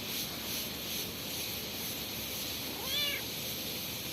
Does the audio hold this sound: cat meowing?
yes